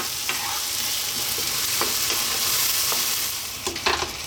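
Tomato arrabbiata sauce with eggplant bubbles and sizzles in a pan over heat just above a simmer, a constant close frying hiss broken by a few soft scrapes and spoon taps, no voices.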